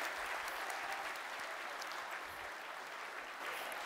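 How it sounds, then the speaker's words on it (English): A small crowd at a property launch event gives steady applause, a soft, even patter of clapping that continues throughout at modest volume. "Can we please give a big round of applause to the purchasers of the sanctuary?"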